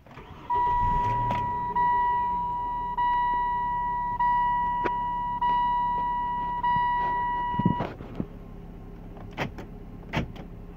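A car being started after a body control module was reprogrammed, with a long steady chime tone repeating alongside mechanical whirs and clicks, then a brief engine start burst and a few sharp clunks toward the end.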